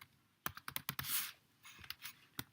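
Keys clatter on a computer keyboard in a quiet room, a short burst of quick close taps followed by a few slower scattered presses.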